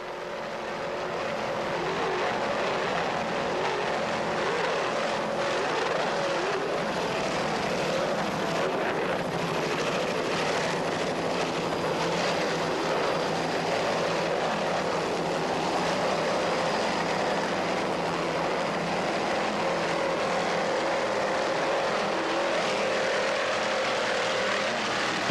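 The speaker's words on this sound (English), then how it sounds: "just listen to those engines" Offshore racing powerboat engines roar in a continuous, loud, rumbling wash during a 1995 Offshore Powerboat Classic race at Harbor Town, building up at the start and then holding steady with no break and no voices.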